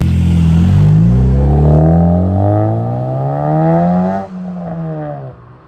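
A 9th-generation Honda Civic Si engine revs loudly and up close through an aftermarket exhaust, its exhaust note climbing steadily in pitch, then dropping sharply before rising again.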